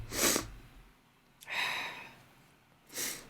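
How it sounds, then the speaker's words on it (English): Two short, sharp sneezes, one near the start and one at the end, with a breathy snort-like burst between them, close and fairly quiet. "you gotta forgive me if you hear me sneezing"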